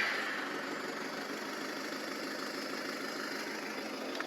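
A VW Polo 1.6 TDI diesel engine with a swapped six-speed gearbox idles steadily with a constant, even rumble, heard close up and alone.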